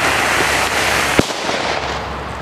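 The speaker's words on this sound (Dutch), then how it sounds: "Voetzoeker." A single sharp bang from an old ground-running firecracker cracks out midway through a steady rush of outdoor background noise.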